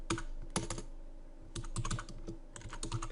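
Someone types a payment note on a computer keyboard, with quick close-up clusters of key clicks separated by short pauses and no talking.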